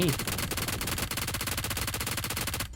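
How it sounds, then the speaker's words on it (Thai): Rapid automatic gunfire in the video game PUBG Mobile, a loud, dense run of evenly spaced shots that continues without pause through the whole stretch, with no talking over it. "เสียงปืนอยู่ทางซ้ายเราใกล้ๆนะครับ"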